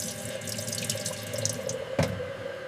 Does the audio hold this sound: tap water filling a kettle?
yes